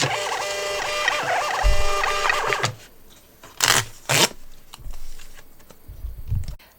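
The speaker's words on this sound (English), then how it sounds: "This new thermal printer is going to be a great asset in my business" A thermal shipping label printer running during order packing, a whirring mechanical feed with warbling tones over the first couple of seconds, followed by several short clicks and thumps in a quieter room.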